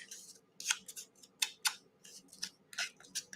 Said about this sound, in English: take our scissors and let's age that up a little bit